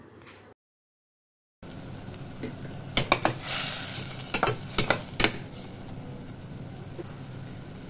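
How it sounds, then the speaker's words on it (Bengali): Potato and papaya pieces go into hot oil with tempered spices for a chicken stew. A low, steady sizzle runs under a burst of sharp spoon-and-pan clanks after a brief dropout, with no speech. "এবার আলু আর পেঁপের টুকরোগুলো ছেড়ে দেবে।"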